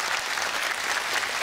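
Applause fills a hall at a modern dance championship, many hands clapping in a dense, even roar that holds steady throughout, with no talk over it.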